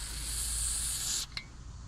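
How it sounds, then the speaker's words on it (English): Lubricant is sprayed into a Kwikset SmartKey lock as a steady close hiss for over a second, then cuts off, followed by a brief click and faint handling. "You can spray it down the hole there, spray it down the holes here."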